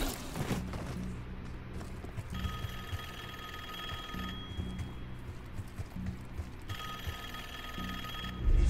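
Telephone ringing in Call of Duty: Black Ops 6: a steady electronic ring that repeats in two long bursts over dense, noisy game ambience, with no speech.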